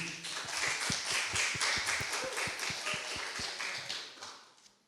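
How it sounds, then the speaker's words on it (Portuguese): Applause from a studio audience and production crew at a Portuguese-language church talk show, a steady patter of clapping with sharp individual claps standing out, fading away toward the end. "eu queria pedir mais uma vez aplausos da produção"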